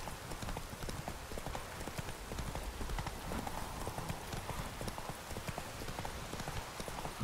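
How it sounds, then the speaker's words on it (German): Steady horse hooves clop along in a quick riding rhythm in The Witcher 3, soft and a little distant, over a constant hiss of falling rain. "Reiten wir im Regen."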